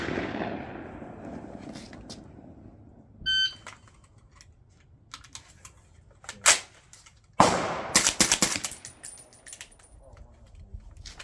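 Gunshots at an outdoor shooting range, a few sharp isolated cracks spread out over several seconds, with a louder burst of impulsive reports near the end and quiet background between.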